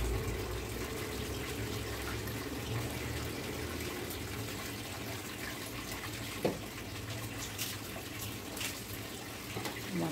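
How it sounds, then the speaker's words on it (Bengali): Steady running water from a tap while a kitchen is washed down, a constant close hiss throughout with a few faint clanks and knocks. "আর কিচেনটা ভালো করে ধুয়ে নিচ্ছি এখন।"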